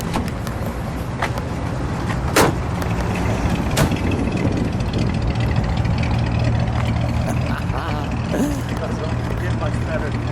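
A black 1959 Chevrolet Impala convertible with a 348 V8 idles close by in a steady low rumble, with a few sharp clicks and faint background voices over the running engine.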